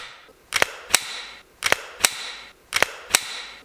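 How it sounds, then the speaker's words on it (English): An unloaded, unchambered pistol with no magazine is handled, and it makes three pairs of sharp, light metallic clacks. The clacks come at a steady interval and sound close and alone, with no talk. "Here is a no mag in the gun,"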